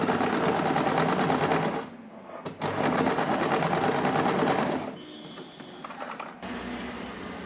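A sewing machine stitches the elastic waistband of a simple straight pant in fast, steady whirring runs, pausing briefly twice before starting again, close and loud with no talking.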